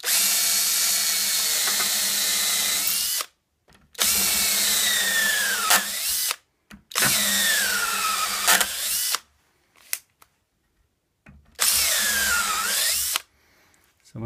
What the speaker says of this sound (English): So I can just drill through into there.